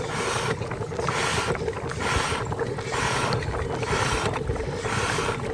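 A hand-operated oil extractor pump draws air during an oil change, making a steady rhythmic run of loud gurgling, hissing strokes roughly every second, close by with no talking.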